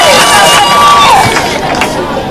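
A crowd at a live outdoor public event at an education centre in Kibra, Nairobi, claps and cheers loudly and densely, with shouts and whistles rising above the steady roar.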